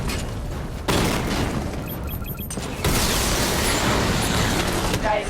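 The Batmobile's barrage weapon fires in Batman Arkham Knight, a continuous heavy stream of booms and rapid bursts. It stays loud throughout, with brief electronic tones and a voice partly under it.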